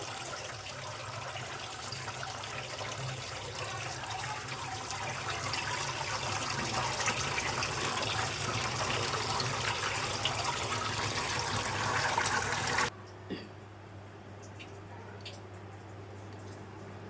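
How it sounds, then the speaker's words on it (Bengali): Chopped dhenki fern greens being washed in clean water, a continuous close splashing and running-water rush that stops abruptly near the end, leaving faint clinks. "পরিষ্কার পানি দিয়ে আমি ভালোভাবে ধুয়ে নিচ্ছি শাকগুলো।"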